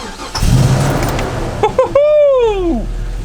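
A vintage camper van engine cranks a few times and catches, settling into a steady idle after a brief rev, loud and close, with people talking over the start.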